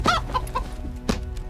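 A chicken in the video game SkySaga clucks several times in quick succession, loud and close, with no talk over it.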